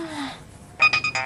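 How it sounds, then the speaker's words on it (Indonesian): A mobile phone rings with a short electronic ringtone, a quick run of bright repeating tones near and fairly loud after a quiet moment, in a domestic comedy scene. "Bang Juri katanya nelfon gue, kok malah dimatiin?"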